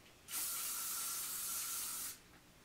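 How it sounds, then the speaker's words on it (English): A single steady burst of aerosol hairspray hisses for about two seconds, close and fairly loud, then cuts off. "don't be afraid to spray underneath and just everywhere"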